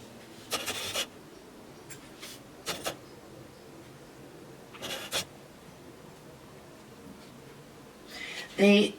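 Carving tool gouging the inside of a letter on a stone seal chop, giving a few short scraping bursts spaced apart, close and fairly quiet, with a brief louder scrape at the end.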